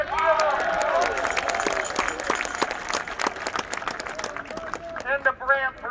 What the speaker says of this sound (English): To team fans in Campbell Stadium, let's give them applause.